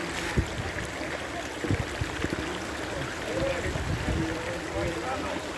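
A stream at the foot of Mount Samat in Bataan flows with a constant rushing wash, while people talk over it nearby.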